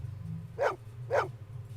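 A dog in the Blade Runner video game gives two short, close barks about half a second apart over a low background hum.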